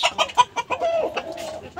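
Desi chickens on a poultry farm cluck in a quick, close burst of short calls, loud and without talk.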